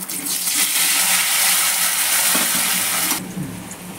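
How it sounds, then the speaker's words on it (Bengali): Elephant foot yam pieces fry in hot oil with turmeric in a home kitchen, giving a loud, steady broadband sizzle that runs for about three seconds and then drops away abruptly. "ওলটাও সুন্দর ভাজা হয়ে গেছে দেখুন বন্ধুরা।"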